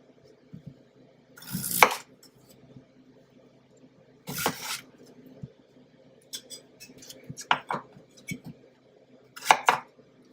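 Knife cutting potatoes into quarters on a board, a few separate sharp chops and taps spaced irregularly, close and fairly quiet against near silence.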